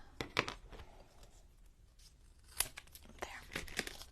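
Quiet snipping and crisp paper rustling close by, a few short cuts with brief pauses between them.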